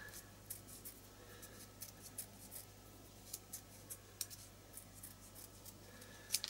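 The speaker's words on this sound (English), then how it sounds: "I'm just going to cut it out, not too carefully" Scissors snip out a small paper print in quick, light, evenly spaced cuts, close and soft over a faint steady hum.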